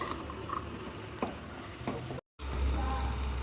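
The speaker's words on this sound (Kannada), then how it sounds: "ಕಾಳನ್ನೆಲ್ಲ ನೀಟಾಗಿ ಫ್ರೈ ಮಾಡ್ಕೊಳ್ಳಿ" Legumes (kaalu) frying in a pan, a steady soft sizzle with occasional stirring scrapes, briefly cutting out before resuming slightly louder.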